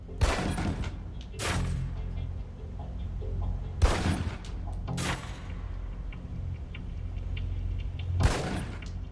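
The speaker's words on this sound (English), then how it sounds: "Equip the pistol, then aim down range and take some shots at the target" Pistol shots fired at a range target in the game Alpha Protocol, three or four loud separate cracks spaced a few seconds apart over steady background game ambience.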